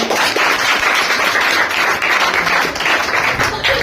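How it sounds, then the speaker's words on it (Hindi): A loud, continuous wave of applause from a packed crowd welcomes students at a Bihar Board class 10 toppers' event. Many hands clap at once in a steady, dense roar with no pauses. "इस बिहार पुलिस के लिए जोरदार ताली से स्वागत करेंगे"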